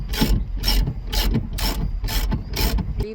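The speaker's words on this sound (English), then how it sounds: "We're rebolting the seat right now." Ratchet tightening the seat bolts in a Dodge Ram 1500, six steady back-and-forth strokes of rapid pawl clicking, close and loud, with no talk.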